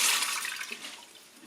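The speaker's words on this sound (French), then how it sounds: "on va mettre 500 ml d'eau" Water poured into a Monsieur Cuisine Smart food processor (Lidl Silvercrest SKMS 1200 A1): a brief, close, bright splashing pour that tapers off, with no talking.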